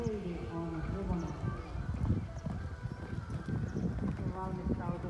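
A horse's hooves clip-clop steadily on an eventing show jumping course in Ypäjä, a continuous thudding rhythm that runs under an announcer talking over the loudspeaker.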